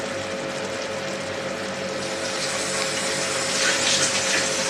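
Water runs in a steady stream, close and fairly loud, while being poured into a pan for petimezi sauce to go with salmon.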